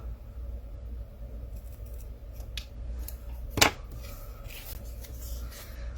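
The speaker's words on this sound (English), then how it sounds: "I'm going to just cut little dovetails in this, and then we'll measure, and then we'll just cut it down to size." Scissors snipping small dovetail notches into scrapbook paper, quiet handling rustle with a few light snips and one sharper close cut midway.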